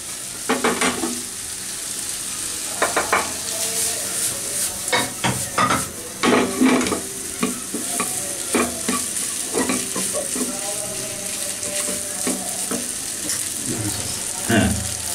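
Vegetables and rice stir-fried for Thai vegetable fried rice in a restaurant kitchen, with a steady sizzle under repeated scraping and clanking of a spatula against the pan, all close and fairly loud.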